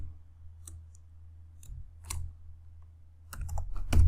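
Scattered keystrokes on a computer keyboard during Python coding, with isolated clicks separated by pauses and a quicker cluster of taps near the end, close and fairly quiet.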